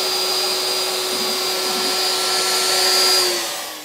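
A CNC router spindle cutting a router template runs as a steady, loud high-pitched whine with a constant tone over the full stretch, easing off slightly at the end.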